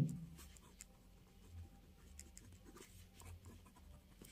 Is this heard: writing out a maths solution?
yes